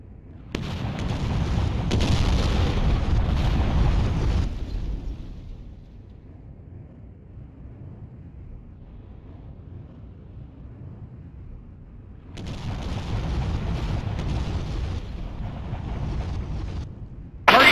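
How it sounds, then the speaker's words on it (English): MLRS artillery strike in the video game Desert Storm: two long bursts of rumbling explosions separated by a quiet stretch, heavy and booming, with a sharp hit at the very end. "I want you to call MNLRS artillery on these targets!"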